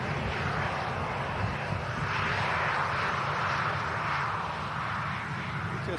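An EasyJet airliner at Manchester Airport gives off a steady, loud jet roar that holds at an even level for the whole stretch, with no voices over it.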